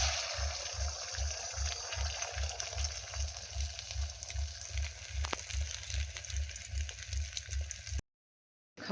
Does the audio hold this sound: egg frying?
yes